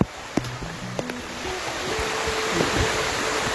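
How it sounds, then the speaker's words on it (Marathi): Heavy monsoon rain pours steadily on a hill trek to Mrugagad fort, making a dense, unbroken hiss with a few faint knocks and tonal sounds early on, and no voices. "पाऊस आता भरपूर जोरात आहे।"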